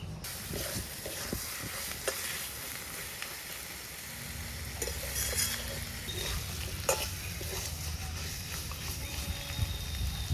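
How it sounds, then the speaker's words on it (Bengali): Cumin seeds temper in hot oil in a wok, a faint, steady sizzle with occasional soft stirring clicks. "কড়াইটা আবার বসিয়ে দিয়ে তেল আর জিরে ফোড়ন দিয়ে দিব"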